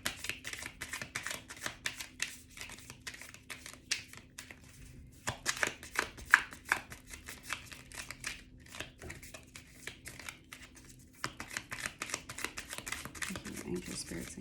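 A tarot deck is shuffled by hand in a quiet room, producing a long, steady stream of soft, rapid card flicks and riffles, close but faint, with brief pauses.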